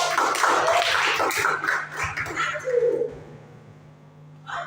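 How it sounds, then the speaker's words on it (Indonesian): Students in a classroom clap for a classmate, a scattered burst of hand claps with voices mixed in that fades after a few seconds, then a single faint clap near the end. "Ada tepuk tangan buat Regan"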